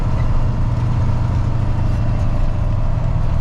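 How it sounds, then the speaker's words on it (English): A truck engine idles with an exhaust leak, a loud, steady low rumble with a faint rapid ticking throb running through it, close and unbroken for the whole stretch. "maybe try to find that exhaust leak"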